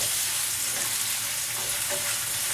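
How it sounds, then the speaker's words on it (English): Onions sweat in a hot pan as part of a mushroom cream sauce, giving a continuous, even sizzle close up. Faint stirring sounds come through it, and nobody speaks. "you want to sweat the onions just a little bit"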